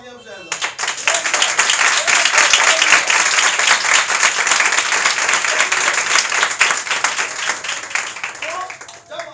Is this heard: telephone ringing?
no